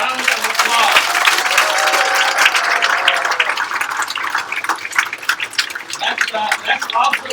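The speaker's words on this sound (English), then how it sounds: "big round of applause." Applause from an audience at a live-streamed gathering, a dense sustained wash of clapping that carries on for several seconds, loud and close.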